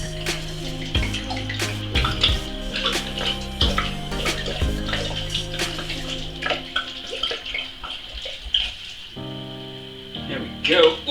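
Liquor poured from a bottle into a jar of allspice and other spices for pumpkin spiced liqueur, a continuous gurgling, splashing trickle that varies as the pour goes on, close and fairly loud.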